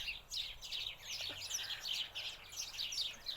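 Small birds singing outdoors, a continuous run of bright, high chirps and twittering phrases at moderate distance, with no talking.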